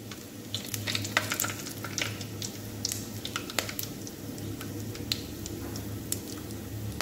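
Cumin, cinnamon and cloves frying in hot oil give a steady close sizzle and crackle, with light scattered pops and stirring scrapes throughout.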